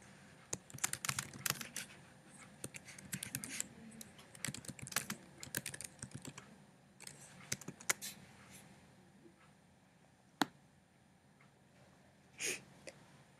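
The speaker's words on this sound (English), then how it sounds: "Once you're finished typing your question" Typing on a computer keyboard while entering a questionnaire question, bursts of quick clicking keystrokes with short pauses and a few isolated heavier taps, close and quiet.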